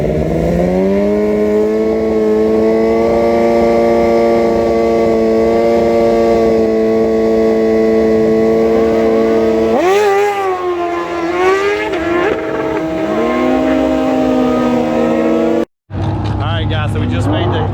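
A Suzuki GSX-R 1000 motorcycle with a newly replaced transmission, loud and close, holds a steady high-revving engine drone, then shifts and climbs again with rising pitch changes before a brief cut.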